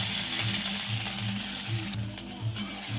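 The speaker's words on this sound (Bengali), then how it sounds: "পেঁয়াজ কুচি দিয়ে দেবো।" Chopped onion hits hot mustard oil with tempered cumin in a kadai, giving a steady close sizzle with a rhythmic scraping underneath.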